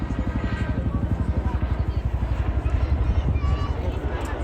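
An RAF 27 Squadron Chinook helicopter flying its display at an air show makes a loud, close, rapid rotor thudding. The beat stays steady all the way through, with a low engine rumble beneath it.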